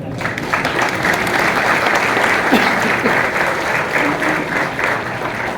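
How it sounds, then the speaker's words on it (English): Steady, full applause from a crowd at a graduation ceremony, continuous and even throughout the few seconds. "Let's give them a round of applause for them."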